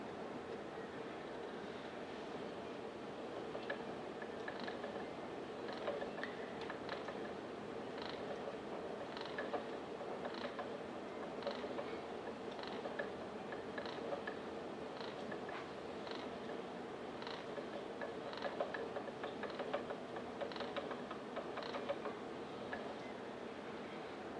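A spinning wheel creaks in a steady, repeating rhythm while yarn is two-plied onto the bobbin. The creaks are soft and close, with a faint hum of the turning wheel underneath.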